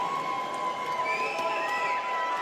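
Boxing fight night crowd cheering in an arena as a fighter works to rouse them, a steady roar of voices holding through the moment with a few whistles rising above it.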